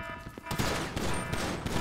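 Gunfire in Grand Theft Auto V: dense, overlapping volleys of shots crackle continuously through a busy firefight, loud and close, with faint voices mixed in.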